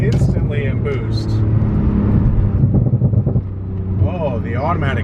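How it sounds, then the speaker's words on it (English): A Porsche 911 Turbo of the 991 generation drops to second gear and surges forward under boost, its loud engine rumbling and rising in pitch as someone talks over it throughout. "Drop down to second. Instantly in boost."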